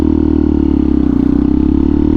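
A Benelli TNT 135 motorcycle fitted with a Max Torque full exhaust idles close by, its loud, steady, rapid engine pulse and deep exhaust burble continuing evenly throughout.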